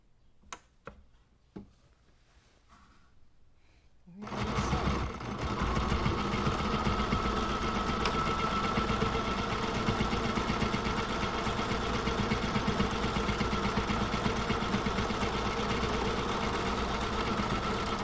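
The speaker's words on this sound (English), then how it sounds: "We're going to sew down where we kind of make a knot." A sewing machine stitches a bag with a steady, loud mechanical whir after a few sharp clicks and a quiet pause, the motor running continuously near the listener.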